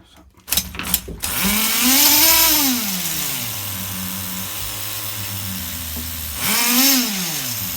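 A nitro engine on an HPI RS4 F150 RC car fires up after a few short bursts, then runs on a bench with a high buzzing whine that rises, settles into a steady idle and swells again near the end.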